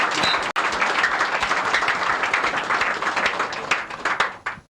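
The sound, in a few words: audience clapping to appreciate quarantine people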